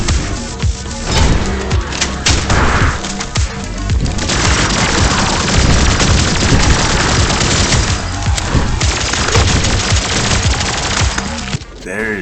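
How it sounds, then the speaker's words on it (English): Rapid, dense gunfire from shooting enemies in the video game Turbo Overkill, loud bursts and booms running continuously with little pause. "Jumping from wall to wall while dodging and shooting enemies."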